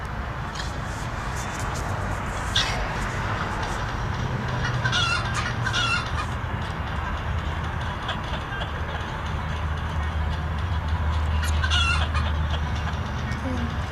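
Video game chickens cluck in short bursts with an occasional crow, over a steady low rumble that runs throughout.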